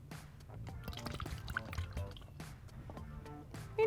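Thick lotion poured through a funnel into a packaging container, giving soft, intermittent drips and glugs with faint clatter, fairly quiet throughout and ending in a brief louder bump.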